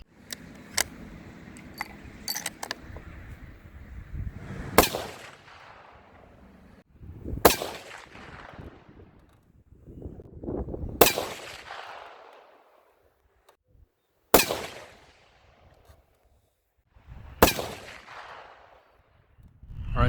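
Five loud 7mm PRC rifle shots firing Hornady 160 grain CX bullets, spaced a few seconds apart, each a sharp crack with a long rumbling decay, after some small clinks and handling noises.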